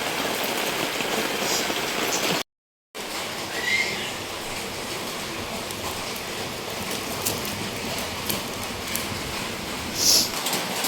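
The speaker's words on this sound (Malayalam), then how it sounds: "പുറത്തിതാ മഴ പെയ്തോണ്ട് കേട്ടോ" Rain falls outside a village home as a soft, even hiss that holds steady throughout, broken only by a brief dropout and a faint bird chirp near the end.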